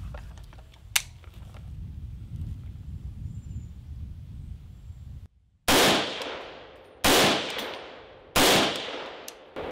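Three loud .308 rifle shots fired with a J-Comp muzzle device, each a sharp blast with a ringing decay, spaced about a second and a half apart outdoors, after a quieter stretch of low rumble and one small clink.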